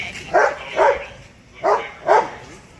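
A police dog barks four times in two pairs, deep and gruff, fairly close, with no talking over it.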